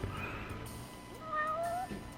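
A cat meows in the video game Judgment, giving a couple of short, rising mewls over soft ambient background noise. No talking is heard.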